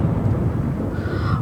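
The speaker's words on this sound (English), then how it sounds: "Oh, and it's a thunderstorm." Rumbling thunderstorm in The Sims 4, a dense low roar with rain-like hiss holding steady for a moment, loud and close, with no voices over it.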